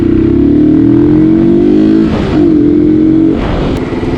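A modified Yamaha R15 V2 motorcycle with a K&N air filter runs loud and close. A sustained engine tone rises slightly, dips briefly and returns, with no talking.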